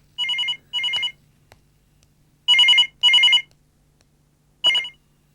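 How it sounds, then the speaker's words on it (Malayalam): A telephone bell rings in five short bursts: two quick rings, a pause, two more, then a final ring, clear and moderately loud in a quiet room. "ഫോൺ. ആരാ നോക്ക്."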